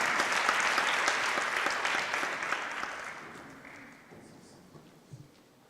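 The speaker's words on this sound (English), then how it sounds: "clap hands for me" Audience applause, a dense crowd of clapping hands, starts loud and gradually thins out and fades until only a few scattered claps remain.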